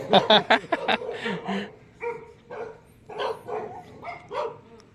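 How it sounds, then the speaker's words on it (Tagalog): Several dogs bark in quick sharp bursts at first, then continue with scattered yips and barks at a moderate distance, on a farm in Palayan City, Nueva Ecija. "Ang dami aso dyan."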